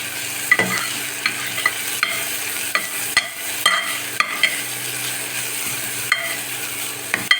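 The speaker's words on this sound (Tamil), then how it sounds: "வெங்காயம் ஒரே ஒரு நிமிஷம் வதங்கிட்டோம் நாலு கருவேப்பிலை போட்டுக்கலாம்" Onion and curry leaves fry in a pan for a bottle gourd kurma, a constant close sizzle punctuated by regular clicks and scrapes of a stirring spoon.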